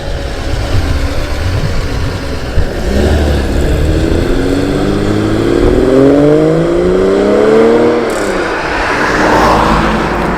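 A Datsun 240Z pulls away at a car meet, its engine note climbing through rising revs before easing off, loud and near against steady background rumble.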